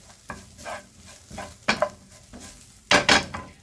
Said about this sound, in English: So now I'm going to add in the herbs and give them a mix in.